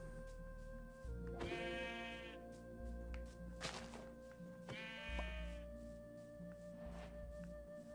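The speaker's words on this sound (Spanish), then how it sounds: "Oveja." Two clear sheep bleats from Minecraft sound out, evenly spaced, over steady game background noise, with no one talking.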